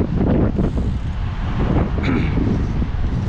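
Steady low rumbling buffeting of wind on the microphone during a road bike ride, continuous and fairly loud throughout, with no clear voices.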